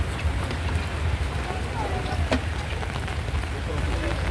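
Steady rain pours down over the Gondal fair grounds, a constant, even hiss of drops on surfaces with a low rumble beneath and no break throughout.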